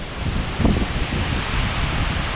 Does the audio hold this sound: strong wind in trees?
yes